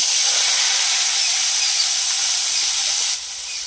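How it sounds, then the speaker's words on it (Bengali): Water spinach fries in hot oil in a wok with a loud, steady sizzling hiss that drops abruptly near the end; no voices. "এইবার কলমি শাকগুলো কড়াইয়ের মধ্যে এই যে তুলে দিল"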